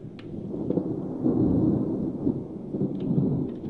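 A thunder sound effect rumbles low and heavy, panned so it sweeps from right to left, with a faint crackle near the start and a rolling swell through the middle, loud and alone.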